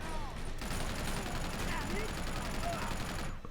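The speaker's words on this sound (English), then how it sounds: "So I'm gonna try to hop on the turret and see if I can't mow down some enemies." A mounted turret machine gun in Uncharted 2 fires a steady, rapid stream of rounds for several seconds, with voices talking over the continuous chatter of shots.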